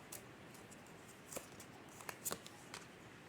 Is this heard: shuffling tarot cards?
yes